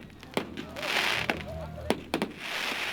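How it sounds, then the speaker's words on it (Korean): Fireworks at a traditional jwibulnori fire festival: several sharp, separate bangs crack out at irregular intervals over a hissy outdoor background. "이 시대의 쥐불놀이 축제는 불꽃놀이로 이어진다."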